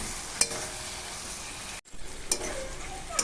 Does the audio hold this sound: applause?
no